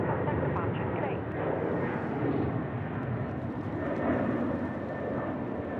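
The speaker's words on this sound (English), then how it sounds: "It's A330 departing, runway 16 right." Qantas Airbus A330 departing Sydney Airport on runway 16 right, a steady broad roar of jet engines at close range that fills the whole clip without a break.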